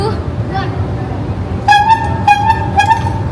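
A loud auto-rickshaw horn fitted on a bicycle blares in three short honks over a low background rumble.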